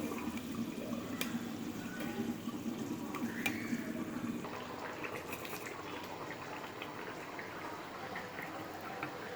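Chicken biryani simmers in a pot with soft, close bubbling and gentle liquid popping, brighter at first and then settling into a quiet, steady low gurgle with no talk.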